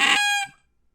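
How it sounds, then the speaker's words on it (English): A single short honk blown on a wild goose call from an old percussion case, a bright reedy blast lasting under half a second, then silence. "We got a wild goose call here."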